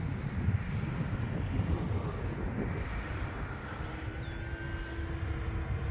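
RC airplane flying outdoors in wind on a 4S 3200 mAh battery with retractable gear, a steady droning motor with a thin whining tone shifting in pitch, at moderate distance with wind rumble underneath, no talking.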